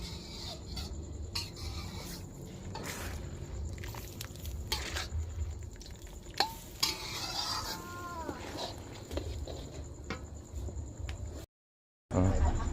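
Fish with red curry paste being stir-fried in a pan, giving a steady faint scraping and sizzling under soft background noise, with a brief silent gap near the end.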